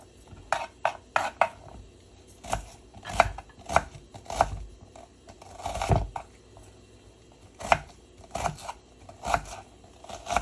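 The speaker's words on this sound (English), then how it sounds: "Just gonna dice it up" A knife dices red onion on a cutting board in bursts of quick, crisp close chops separated by short pauses, with occasional heavier thuds against the board. No one speaks.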